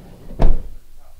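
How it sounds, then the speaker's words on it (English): Single dull thud of a sliding door on a 2020 Coachmen Beyond 22RB RV, one short close knock over quiet room tone. "Sliding door here."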